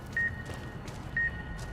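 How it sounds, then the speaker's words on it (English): Radios in the video game Fallout New Vegas Dead Money beep in two short, sharp electronic tones about a second apart over a low ambient hum. "But we're still beeping because there's more radios"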